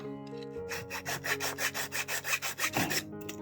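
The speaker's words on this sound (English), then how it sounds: "sanding done, just a little bit, not too much of it." Rhythmic back-and-forth scraping of hand sanding a small model, about a dozen quick, close strokes in a steady rhythm, with no talking.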